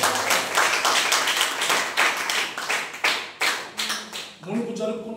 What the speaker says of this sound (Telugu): చప్పట్లు కొట్టి దేవుని నామాన్ని మహిమపరచాలి.